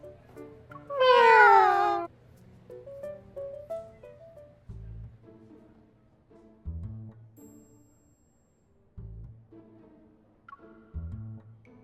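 A cat in the video game Love and Deepspace lets out a loud, drawn-out meow, followed by softer electronic tones and several low thumps with quiet pauses between them.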